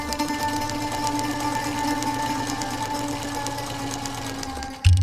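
A sewing machine runs steadily with a continuous whirring hum and fast mechanical ticking, close and even for several seconds before stopping with a thump at the end; nobody speaks.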